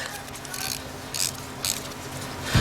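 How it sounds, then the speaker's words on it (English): A ratchet snugging a spark plug on a Lexus IS250, with three short clicking bursts of the pawl spaced about half a second apart against a low steady hum. "And then just tighten down until it's snug."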